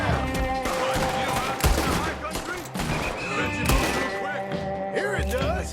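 Gunfire crackles through a Red Dead Redemption 2 skirmish, with repeated shots and bursts layered over dense game noise and music, loud and continuous across the whole stretch.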